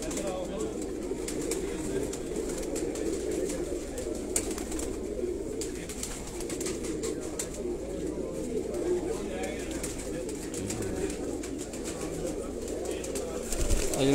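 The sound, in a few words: Batera and Kasuri pigeons cooing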